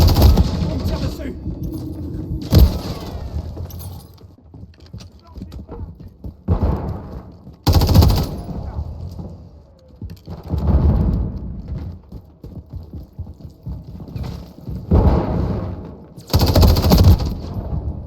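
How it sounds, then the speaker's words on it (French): Bursts of gunfire from the 2023 shooter game Call of Duty Modern Warfare III crack out in several loud, separated volleys, with in-game voices and talk in between. "On me tire dessus."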